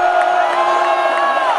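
A stadium crowd reacts at a rainy 2010 Oregon vs Portland State football game, a steady loud roar of cheering with sustained tones ringing through it.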